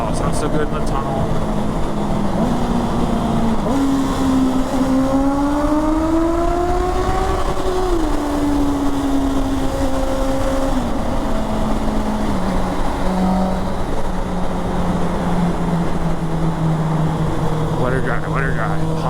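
A Honda CBR650R motorcycle engine revs inside a road tunnel, its pitch rising steadily then dropping back to a steady drone, loud and close with a continuous reverberant hum throughout.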